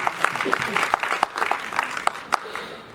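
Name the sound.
applause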